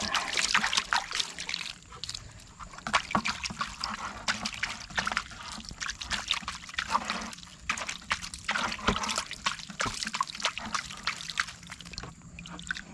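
Water pours and trickles as a banjo pan is rinsed into a gold pan while panning river gravel for gold in Michigan, with close splashing and sloshing that rises and falls.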